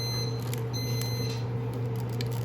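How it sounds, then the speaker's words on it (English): An electronic device gives off a short, steady high beep, faint and repeated, during an orchid mounting session, over a loud constant low hum. "There goes the beep."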